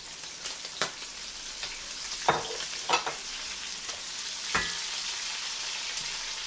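Onion, bacon and tender garlic fry in a pan with a soft, steady sizzle. Sharp clinks and scrapes from stirring break in now and then, close by and with no voices.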